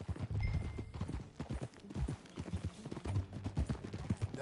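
Horse hooves clip-clop in an uneven walking rhythm while riding, fairly close and moderately quiet, with some faint rustle around the steps.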